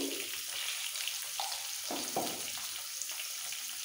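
Potatoes frying in hot oil for a Punjabi dhaba-style aloo dum, stirred now and then, giving a steady close sizzle with a few scraping stir strokes and no voices.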